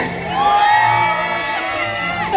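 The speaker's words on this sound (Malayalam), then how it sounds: "ഒന്ന് കൈയടിച്ച് കൂകി വിളിച്ച്" An audience at a Malayalam comedy show cheers and hoots loudly in a burst of crowd noise, with shouted voices layered over the din.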